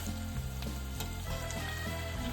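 Bacon and other proteins go back into a hot pan with vegetables for a French dish, a close, continuous sizzle with scraping stirring clatter mixed in.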